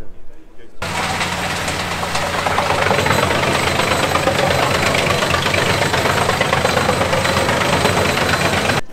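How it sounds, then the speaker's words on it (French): A small tractor of about 90 to 110 horsepower runs at a livestock show, its engine a steady, loud, dense rumble that continues unbroken throughout. "Donc ce petit tracteur là, tu dis, il fait quoi, 90 chevaux, 100 chevaux?"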